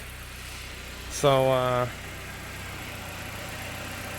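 A Saab 9-5 idles with exhaust flowing from a temporarily repaired, rusty exhaust pipe flange, a steady low rumble throughout, briefly overlaid by a short spoken word.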